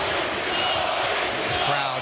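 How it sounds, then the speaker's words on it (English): A basketball arena crowd chanting Coby White's name during an NBA game, a steady loud roar of many voices filling the space with no break. "The crowd chanting Coby's name."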